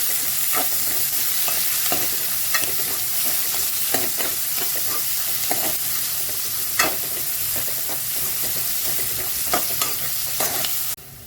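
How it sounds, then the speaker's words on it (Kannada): Curry leaves sizzle steadily in hot ghee for a tempering, with continuous loud frying hiss and repeated sharp stirring clicks of a spoon against the pan, close and without talk. "ಎರಡು ನಿಮಿಷ ಚೆನ್ನಾಗಿ ಫ್ರೈ ಮಾಡ್ಕೊಳ್ಳೋಣ."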